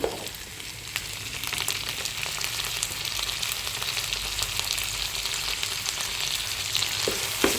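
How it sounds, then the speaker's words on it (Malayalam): Ivy gourd and turmeric sautéing in a pan, a dense, steady hiss of frying with faint crackles and occasional stirring scrapes throughout, close and continuous with no voices. "ഇതിലേക്ക് നമ്മൾ അരിഞ്ഞു വെച്ചിരിക്കുന്ന കോവയ്ക്കയും മഞ്ഞൾപ്പൊടിയും ഇട്ട് കൊടുക്കാവുന്നതാണ്"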